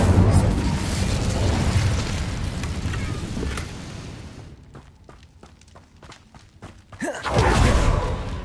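A fiery Incendio spell is cast in Hogwarts Legacy, with a loud whooshing burst that fills the first few seconds and then fades into quieter crackles before a second booming flare near the end.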